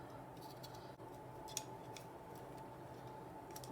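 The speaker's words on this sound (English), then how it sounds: "I'm going to take a pair of scissors" Quiet, crisp snips of scissors trimming fabric edges at irregular intervals, faint and close, against a soft background hiss.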